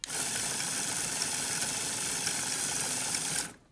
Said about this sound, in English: Next, I added the motor complex.